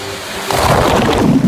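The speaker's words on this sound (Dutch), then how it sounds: "We staan hier bij de stroomversnelling en nu gaan we hier lekker in." Rushing water churns in the rapids channel of an indoor swimming pool at a beach resort, a loud, dense roar that swells about halfway through and stays steady and close.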